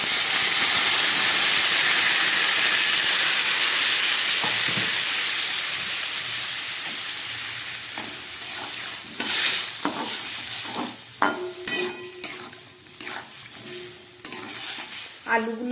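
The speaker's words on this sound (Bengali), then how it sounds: "এবার আমি দিয়ে দিচ্ছি খুব সামান্য জল।" A little water goes into a hot pan for a vegetarian Bengali shukto, raising a loud steady hiss of steam that slowly fades, followed by scattered stirring clinks and scrapes.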